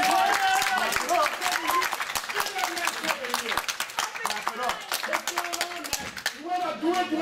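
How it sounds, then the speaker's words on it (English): A crowd at a rally claps and applauds in dense, continuous bursts of sharp handclaps, loud and close, while voices shout and talk over the clapping throughout. "Clap it up for Paul."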